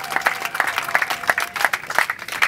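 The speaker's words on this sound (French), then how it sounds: "Applaudissons, applaudissons" An audience applauds at a handover ceremony with a steady burst of rhythmic clapping from a crowd, close and fairly loud throughout.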